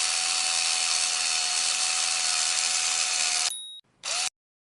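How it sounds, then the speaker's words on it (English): A Bosch drill whirs at a steady high pitch while boring a hole into a wall for a wall plug. The whine runs loud and continuous, then cuts out, briefly restarts, and stops. "use the trigger switch to start drilling slowly and steadily"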